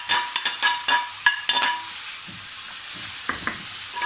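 Peppers, onion and celery stirred in a hot pan for a chicken fricassee, a spoon scraping in quick strokes over a steady close sizzle of frying, with the stirring thinning out as the sizzle carries on alone.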